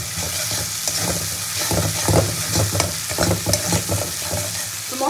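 Spice paste with Kashmiri chilli is fried and stirred for a pointed gourd (potol) curry, giving a loud, close sizzle broken by repeated scraping strokes of a spatula in the pan, with no talking.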